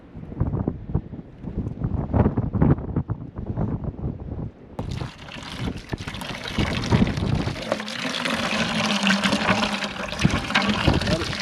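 Well water gushing out of a newly dropped well for a one-minute flow test, a steady loud rushing splash filling a container, with people talking intermittently over it at first.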